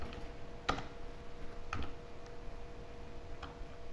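A computer keyboard gives a few faint, sparse clicks of typing, spaced irregularly against a quiet room hum.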